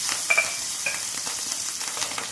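Onion fries in hot oil for a Gujarati sing bhajiya shaak, a close, continuous crackling sizzle with a few stirring scrapes and clinks, with no voice over it.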